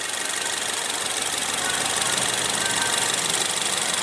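A 2015 Ford Fusion's 2.0 L turbocharged four-cylinder idles as a steady, even hum with a hissy, broadband texture and no talking over it.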